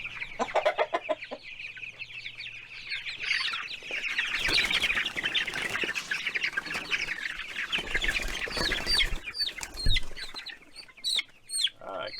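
Three-week-old Ranger chicks cluck and peep busily at close range, with bursts of wing flapping and scuffling in the middle and sharper calls toward the end, without any talking.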